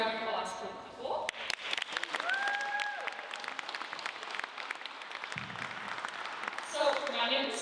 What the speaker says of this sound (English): we should take a round of applause for people.